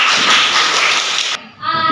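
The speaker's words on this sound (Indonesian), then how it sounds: "Tepuk tangan untuk kelompok 3." A classroom of students claps for a presenting group, a dense burst that stops abruptly, followed by a brief tonal voice.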